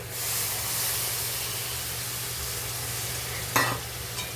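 Prawn malai curry with coconut milk stirred in a pan, a steady soft bubbling hiss with a single sharp clink of the spoon near the end, close and fairly quiet.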